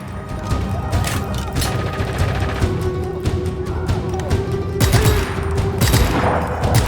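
Rapid bursts of video game gunfire from Just Cause 3, dense and continuous with loud booming hits near the end and a steady tonal hum underneath.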